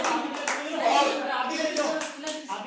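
An audience at a cute baby contest claps in a lively crowd, with a voice over a loudspeaker talking over the clapping.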